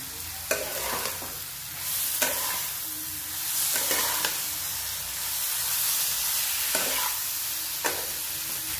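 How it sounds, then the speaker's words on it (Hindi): Spices fry with salt in a pan for an egg chilli curry: a steady close sizzle and hiss, broken every second or so by sharp scraping stirs of a spoon, with no voices. "नमक डाल दिए हैं, नमक के साथ हम भूनेंगे।"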